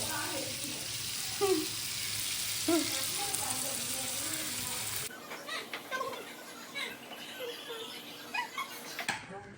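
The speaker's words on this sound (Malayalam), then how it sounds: "മത്തി പൊരിക്കുന്നുണ്ട്" Sardines fry in a pan with a loud, steady sizzle that softens partway through, while someone talks nearby.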